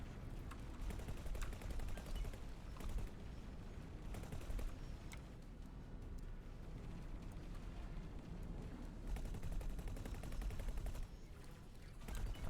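Gunfire and fusillade roar through a space combat battle in X4: Foundations, with dense, continuous bursts of shots and blasts rumbling with no letup, louder near the end, and no speech.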